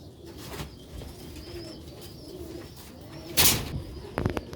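Rooftop pigeons in Sialkot coo softly in the background, then a brief burst of wing flapping, with faint rustling and a few clicks at the end.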